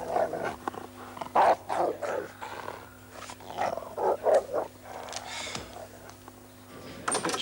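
Dog growling in short rough bursts, low and close, set against a steady mechanical hum, with a brief higher snarl near the end.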